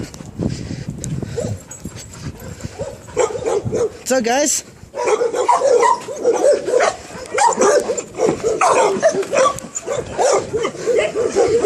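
Dogs at a dog daycare bark, yip and whimper excitedly in a busy chorus, some close and some farther off, while a person greets them in a friendly voice over the noise.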